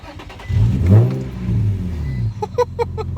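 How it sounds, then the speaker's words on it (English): An Infiniti G35 sports car engine revs up loudly with a deep throaty exhaust roar, settles into a rumbling idle, then a few quick sharp blips at the end. "let's get this exhaust note clip done for y'all"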